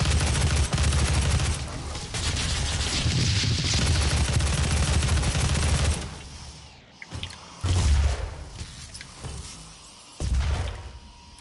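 Micro missiles firing in DOOM (2016) on the Argent Tower mission: dense, loud bursts of explosive shots and booming impacts for about six seconds, then scattered blasts, with a voice talking over part of it.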